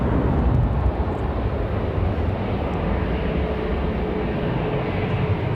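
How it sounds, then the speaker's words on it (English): A CRJ jet departing Raleigh Durham airport produces a sustained, heavy, rumbling engine roar, loud and broadband throughout, with no voices. "Got a CRJ departure."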